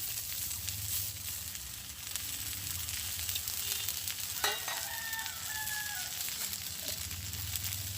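Chopped onion frying in hot oil in a Bengali village kitchen, part of a shrimp and green jackfruit dish. A steady, moderately loud sizzle runs throughout, and a rooster crows in the background partway through.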